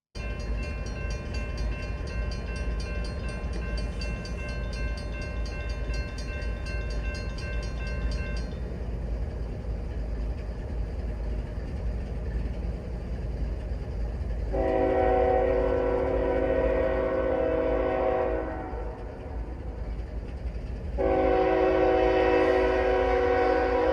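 A train rolls past on the tracks with a steady, heavy rumble, its horn sounding in a long blast and then again after a pause, loud and nearby.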